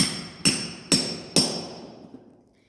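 A hammer strikes a punch three times at an even pace to fix stair nosing through a carpeted jarrah step into concrete, each blow a loud, ringing metallic hit that fades out after the last one.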